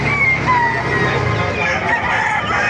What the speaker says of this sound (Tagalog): Ang laking hen ito, mga kamaster, oh.